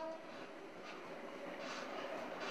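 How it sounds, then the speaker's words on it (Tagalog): A moving PNR passenger train heard from inside a swaying coach: a steady broad rumble and rush of wheels and car noise with faint rattles, continuous and fairly loud, with no talking. "Dahan-dahan ang bawat hakbang namin sa loob. Umuuga kasi ang tren."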